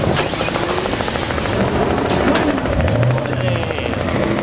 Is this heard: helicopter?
yes